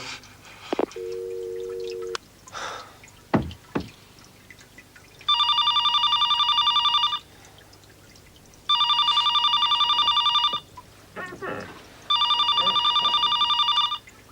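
A telephone rings three times in long electronic bursts evenly spaced with pauses between, loud and close, after a brief tone and some clattering handling sounds.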